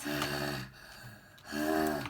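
A voice mimics a T-Rex breathing heavily during toy dinosaur play, giving two long, rasping, snorting breaths with a quieter inhale between them, up close and alone.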